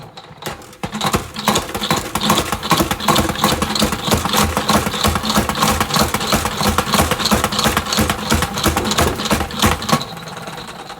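Basil leaves whirled in a plastic salad spinner give a steady, loud mechanical whir and rattle that runs continuously for about ten seconds after a brief start.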